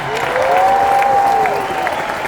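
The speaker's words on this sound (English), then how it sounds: "they deserve a nice round of applause" A convention crowd in Las Vegas applauds steadily and loudly throughout, a dense wash of clapping with a faint tonal hum underneath.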